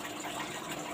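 Heavy water poured steadily over live crabs, a continuous broad gushing splash that fills the whole moment at close range with no voices.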